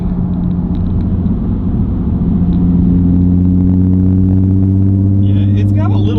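Steady low droning boom from a Nissan 350Z titanium exhaust while cruising at about 50, heard from inside the cabin as a loud, resonant hum that holds level throughout.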